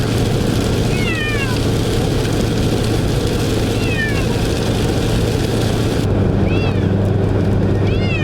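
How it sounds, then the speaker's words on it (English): A cat meows repeatedly, a few drawn-out cries spaced seconds apart, over the constant low rumble of a moving car. "That cat is still meowing."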